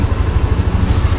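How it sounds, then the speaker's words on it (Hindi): Motorbikes idling and creeping through a traffic jam on a mountain road, a loud, close, continuous engine rumble with a throbbing low beat. "बढ़िया ट्रैफिक लगा हुआ है भाई"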